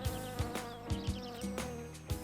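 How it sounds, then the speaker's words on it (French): Cartoon gnats buzzing around a garden, a continuous insect drone with pulsing swells and low thumps layered over it, steady and fairly faint throughout with no speech. "Mais les moucherons, ils ont tout gâché."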